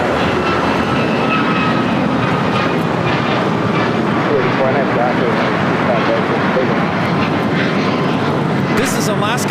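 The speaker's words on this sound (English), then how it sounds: "This is Alaska Airlines Flight 310 taking off to Washington Dulles on a MAX 9" Alaska Airlines Boeing 737 MAX 9 jet taking off at LAX, a loud, steady engine roar filling the scene throughout, with people chatting over it.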